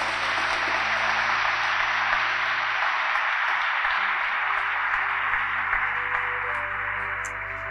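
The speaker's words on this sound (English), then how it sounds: "Let's give them a clap as well." Steady, dense applause from an audience at a graduation ceremony, a continuous close wash of clapping that holds level throughout and eases slightly at the end.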